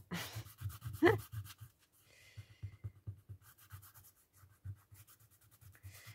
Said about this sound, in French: Alors après on frotte.